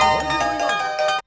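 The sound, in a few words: mobile phone ringtone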